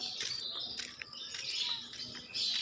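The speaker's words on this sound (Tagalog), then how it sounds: "nadidinig na namin, oh, yung mga huni ng lovebirds" Lovebirds chirp in quick, high, bright tweets at a house with pigeons nearby, a busy overlapping twittering at moderate distance with no talk.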